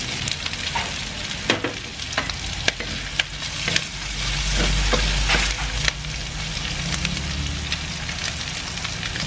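Crab Bicol Express fries in a pan under a steady, loud sizzle, broken by repeated sharp clacks and scrapes of stirring and a brief swell of hissing midway through, close up and with no voices.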